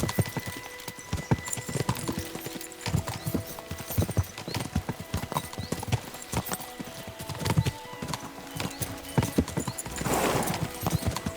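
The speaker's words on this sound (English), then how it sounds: "We should spur the horses on." Horses gallop in a medieval setting in Kingdom Come: Deliverance II, with dense, rapid hoof clip-clops running throughout and an occasional neigh. Rattling and mixed game ambience sit underneath.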